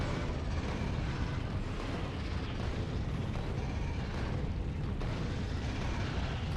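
Dense, continuous rumble of explosion cannon shells bursting in Factorio, a steady barrage of booms blending into a loud, unbroken roar with no clear gaps between blasts.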